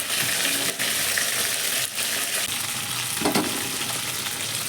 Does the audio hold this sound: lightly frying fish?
yes